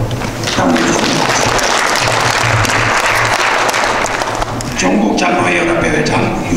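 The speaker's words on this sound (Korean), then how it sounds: "박수로 감사해 주십니다." A large audience at a graduation ceremony for a presbyterian elders' graduate school claps in a loud, continuous, dense round that runs throughout, with a faint voice underneath near the end.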